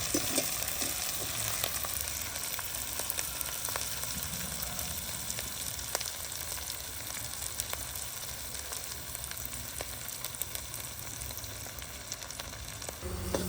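Dried fish sizzles in a pan with chilies and wild greens, giving a dense, continuous frying crackle with occasional sharp pops and faint stirring, steady and close throughout.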